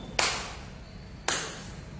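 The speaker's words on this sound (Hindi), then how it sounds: "ताली बजा लो" A church congregation claps during a worship service, heard as two sharp, loud group claps about a second apart, each trailing off in a reverberant hall.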